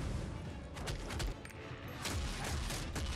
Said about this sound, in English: Sounds like gunshots, so fucking cool. Oh shit, she has like guns in her fists.